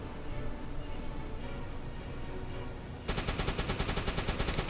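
A deck gun aboard a U-boat in a video game fires at an Allied patrol. Scattered shots come first, then a rapid, regular burst of automatic fire takes over in the second half.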